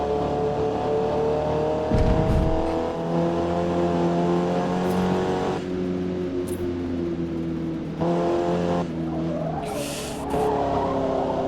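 A race car engine drones steadily through a lap in Forza Motorsport, its tone rising and falling with revs and gear changes, with brief tire squeal and skidding bursts; no talk.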